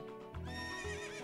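A horse whinnies in the video game Ocarina of Time, a loud, clear neigh with rising and falling tonal calls lasting about a second over a low game background.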